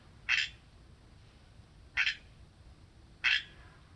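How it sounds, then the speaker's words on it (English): A frog on a porch gives three loud, short croaks about every one and a half seconds. Each croak stands out clearly over a quiet background with no talking. "There's a frog on my porch. It's being really loud."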